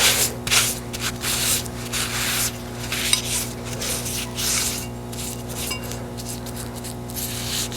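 A cloth rubs oil onto the lid of a cast iron kettle, giving steady close scrubbing and swishing strokes with occasional light metallic clinks and a faint background hum, no voices.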